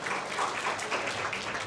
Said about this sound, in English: We can give applause to him.